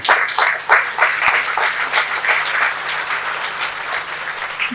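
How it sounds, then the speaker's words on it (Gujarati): An audience in Surat breaks into sustained applause, many hands clapping densely and fairly close, a steady roar of claps with a few sharper peaks, no talking over it. "આપણે જોરદાર તાળીથી વધાવીએ"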